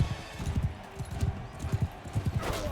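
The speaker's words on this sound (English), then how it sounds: "Oh, we're on horses." Rhythmic clip-clop of horse hooves during a cavalry battle in Mount & Blade: Bannerlord, a steady galloping patter throughout with faint game ambience and no speech.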